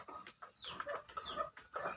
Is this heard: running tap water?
no